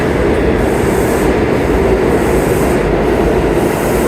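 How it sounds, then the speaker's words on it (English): A downtown A train made of old R46 subway cars rolls through Penn Station on the 8th Avenue line, a loud, steady rumble of wheels and motors with faint squealing, near and continuous. "The downtown A train is an R46."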